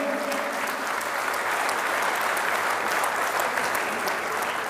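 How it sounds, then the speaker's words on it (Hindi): Sustained audience applause at an international mushaira (Urdu poetry gathering) in Muscat, Oman: dense, steady clapping from a sizeable crowd, even in level throughout without pauses, with no talk over it. "एक बार इनके लिए जोरदार तालियां आप बजा दीजिए।"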